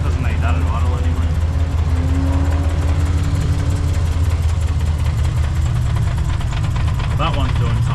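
A Ford Falcon car engine idles steadily and close by with a low, continuous rumble and faint mechanical knocking, while people talk over it throughout.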